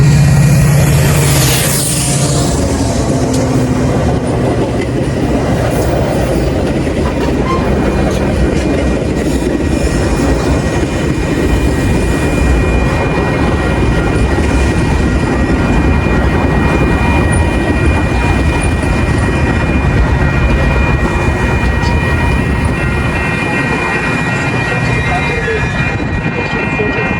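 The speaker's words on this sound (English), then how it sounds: "643 to McHenry is now arriving." A commuter train rumbles steadily into Arlington Park station, wheels clattering on the rails, with a brief horn-like tone at the start and constant loud mechanical noise.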